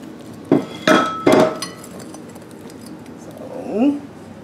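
A whisk strikes the bowl as wet and dry gooey fudge cake batter is mixed, giving three loud, close clinking knocks followed by a quieter, softer stretch.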